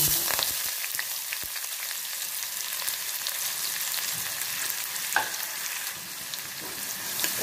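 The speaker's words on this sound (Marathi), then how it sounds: "कांदा थोडस ताजून घ्या" Onion frying in oil over medium heat for methi amti, a continuous close sizzle broken by occasional scrapes and clicks of stirring.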